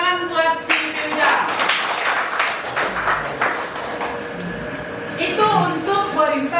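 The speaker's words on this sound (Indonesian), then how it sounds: "Oke, tepuk tangan buat si Firja." A classroom of students claps together for a classmate in a few seconds of scattered applause, with voices talking before and after it.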